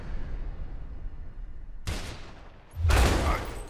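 Gunfire in the video game A Way Out: a loud burst of shots near 1.9 s, then a heavier, louder volley from about 2.8 s to the end, over a steady low rumble of background game noise.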